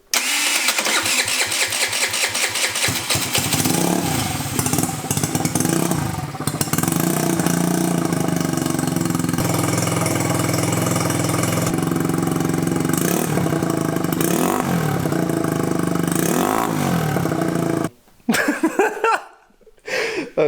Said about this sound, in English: This is the first start with the new exhaust.